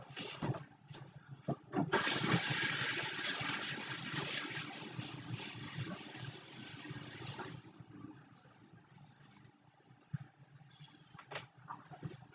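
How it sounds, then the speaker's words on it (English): Water gushes from a tap for several seconds while hands are rinsed during Christmas Eve cake decorating, a close, steady rush that fades out, with light handling clatter around it. "Let me wash my hands off."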